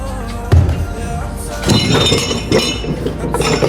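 Close, sharp metallic clinks and a few knocks of an old spoon among aged cups and utensils inside a hundred-year-old house, over a constant background hum.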